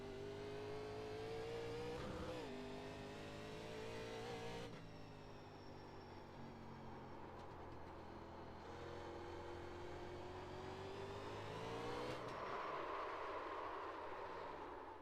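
Race cars roar around the short oval at North Wilkesboro in the iRacing sim, a steady close engine drone with rising and falling pitch as the car accelerates and lifts through turns, no voices.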